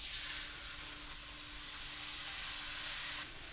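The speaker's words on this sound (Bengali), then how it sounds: "এই ঘিয়ের মধ্যে দিয়ে দেবো ওই চালটা" Rice hitting hot ghee in a pan gives a loud, even hiss that holds steady and then drops off sharply near the end, with no voices.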